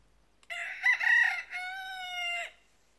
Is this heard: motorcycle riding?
no